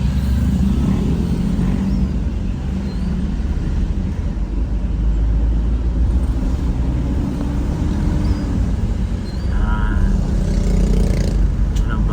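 Road traffic flows through Baguio City, a continuous low rumble of passing cars and motorcycles with engine drones swelling and fading, fairly close and steady throughout.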